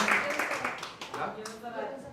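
Scattered clapping from a small group under a lively hum of voices, fairly quiet and brief.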